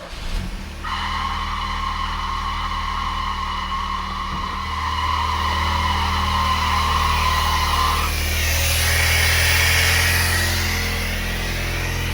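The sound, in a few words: car engine running with clutch pushed in, belt squeal stopping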